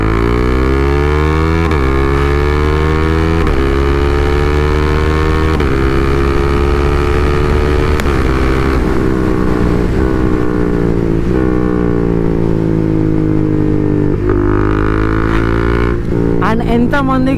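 A KTM Duke 390 motorcycle with a stage 2 tune accelerates loud and close, its engine note climbing through the gears in repeated rising sweeps, with wind buffeting throughout.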